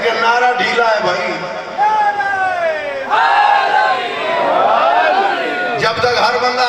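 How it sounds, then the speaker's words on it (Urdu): Large crowd at a religious celebration for 13 Rajab shouting a devotional slogan in unison, several loud surging collective cries with overlapping voices that rise and fall, close and filling the space. "داد بڑی دے رہے ہو لیکن نعرہ ڈھیلا ہے بھائی"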